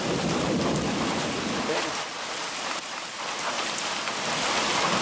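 Heavy rain pours down in a steady hiss during a long overland cattle drive, with a low rumble of thunder swelling underneath and easing midway before the downpour builds again.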